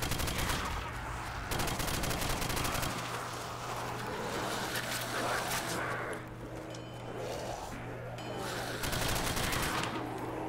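Gunfire in a custom zombies video game, a fairly quiet, dense fusillade of rapid shots with a brief lull partway through, heard over a low steady game hum.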